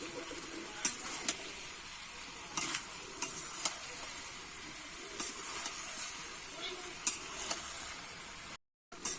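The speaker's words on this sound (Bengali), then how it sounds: "এইবারে ভালো করে কিন্তু আমি একটু কষিয়ে নেব" A fish head and Malabar spinach curry is sautéed in a pan in a village kitchen, with a soft steady sizzle broken by repeated clinks and scrapes of stirring. The sound cuts out briefly near the end.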